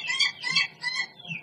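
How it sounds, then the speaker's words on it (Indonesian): An ayam ketawa, the laughing chicken breed, crows in a run of rhythmic, warbling bursts, rising and falling several times over a second and a half, close and fairly clear with no talk. "kaya akan jenis cengkok dan iramanya. Ayam ketawa."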